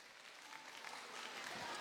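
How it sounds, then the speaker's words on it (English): Audience at an English talent contest final applauding, a short burst of dense clapping that swells slightly louder, heard at a distance. "Can I have a quick round of applause for all my contestants?"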